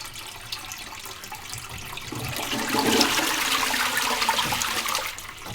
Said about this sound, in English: either you can just let it kind of wash itself out, or you can hold it long enough to get the whole flush in there